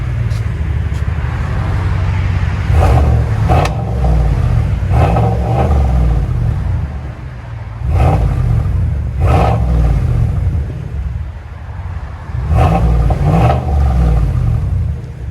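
A 2019 GMC Sierra 1500 AT4 with the 6.2L V8 and dual exhaust through a Flowmaster Super 10 Outlaw race muffler revs repeatedly, loud, deep bursts rising and falling over an idle rumble, with about five throttle blips spaced a few seconds apart.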